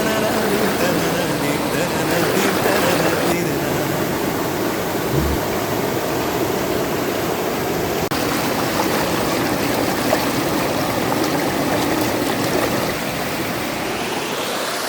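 Small waterfall in Kerala with low flow, heard as a steady close rush and splash of falling water with a voice talking faintly underneath.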